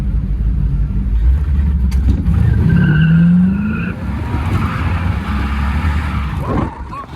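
Chevy LS overhead-cam engine car with a lopey cam pulling hard under full throttle, a loud steady drone with a rising tone through the middle, then easing off near the end.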